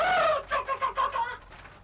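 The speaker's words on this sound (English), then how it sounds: "My hens are free range." Free-range hens on a farm give a short run of about five rhythmic clucks, close and fairly loud with no one talking.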